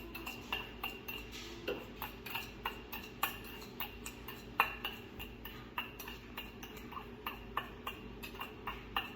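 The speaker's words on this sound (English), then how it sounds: "I'm just gonna stir it a little bit so like the taste of the garlic will come out" A spoon stirs sugar and garlic in a pan with regular metallic taps and scrapes against the pan, a close, steady rhythm of light clinks heard alone.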